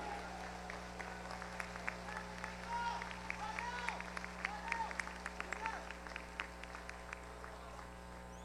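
Audience applause for the winner of a national Italian music festival, a steady, dense patter of clapping that runs the whole time at moderate level, with a voice speaking over it.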